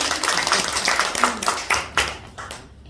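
Church congregation clapping during a dialogue sermon, a short scatter of uneven claps of moderate loudness with a few sharp individual hand strikes, fading out at the end.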